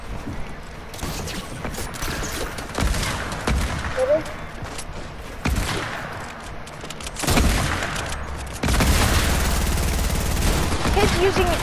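Rapid bursts of SMG fire crackle through a Fortnite match, close and loud, with dense sustained volleys and short pauses, mixed with sharp impacts while players talk over the shooting.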